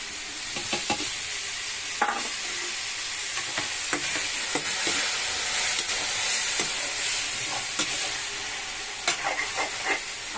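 Tomato paste sizzles in a hot pan for bottle gourd curry, a steady bright frying hiss with scattered scrapes and clicks of stirring throughout, close and fairly loud, no talk.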